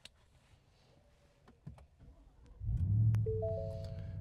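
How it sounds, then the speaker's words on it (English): Startup chime of a 2024 Ford F-150 Raptor R, a short melodic tone sequence rising over a low hum as the cabin systems wake, quiet and close, preceded by faint clicks. "Got the startup theme here."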